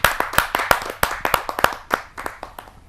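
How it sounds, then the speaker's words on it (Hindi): An audience at a Hindi poetry gathering claps by hand in a burst of sharp, irregular claps from a small crowd that thins out and fades over a few seconds. "आप सबकी जोरदार तालियों के माध्यम से।"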